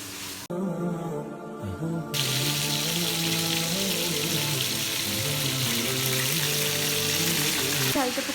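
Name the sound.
marinated food frying in a pan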